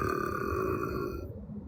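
A woman lets out a loud, drawn-out burp, close and voiced with a buzzing, tonal quality, lasting over a second before fading abruptly.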